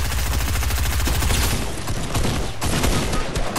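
Dense, loud bursts of rapid gunfire crack continuously through a Fortnite arena trios match, rounds overlapping into a near-constant fusillade with no talk.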